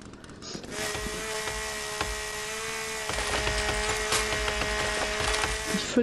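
Chainsaw in The Forest video game cutting into trees, a steady close buzzing whine that runs continuously with rhythmic pulses of the chain biting through wood.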